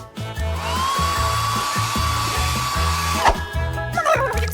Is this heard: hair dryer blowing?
yes